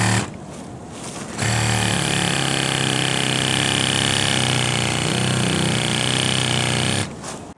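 A Sawzall reciprocating saw fitted with its standard small-toothed blade cuts during a cleanup, a loud buzzing run of about six seconds that starts and stops abruptly, with quieter background before and after.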